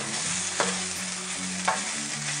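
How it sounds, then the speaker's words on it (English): Diced sausage stirred into softened onions and mushroom stems in a hot pan over a steady sizzle, with two distinct scraping strokes of the spoon about a second apart. "So I've just quickly diced up our sausage, so I'm just going to add that back and just mix that through"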